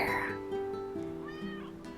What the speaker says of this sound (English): I heard a meow around here.